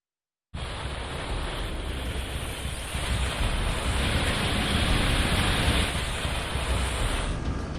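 A dense, steady hiss of heavy monsoon rain pours down in flooded Mumbai, broad and unbroken for several seconds and swelling slightly toward the middle, with no voices over it.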